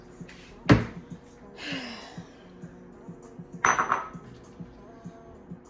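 Food served into plain white bowls while making chicken fried rice at home, with two sharp ceramic clinks of dishware and utensils spaced a few seconds apart, plus softer scraping in between, close and otherwise quiet.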